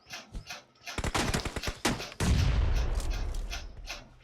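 Game combat in BGMI: a rapid string of sharp gunshots building into a burst, then a heavy bomb blast with a rolling low boom that fades, followed by scattered further shots.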